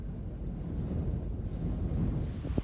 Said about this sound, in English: It's very interesting how directional the wind is.